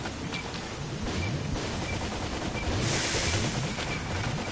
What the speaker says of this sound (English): Why am I hearing gunfire all of a sudden?